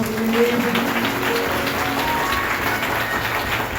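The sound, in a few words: congregation clapping loudly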